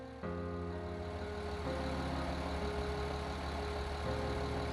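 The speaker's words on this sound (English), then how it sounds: "because of the other car that's idling at the back" A car engine idling behind an Audi S4 under repair, a steady low droning hum with a faint whining tone, continuous and even with no talk.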